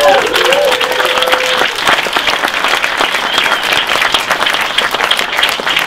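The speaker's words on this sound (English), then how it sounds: "a big round of applause for Bart and Lucy" A packed audience at a crossword talk gives a big, sustained round of applause, loud and dense throughout, with a brief voice at the very start.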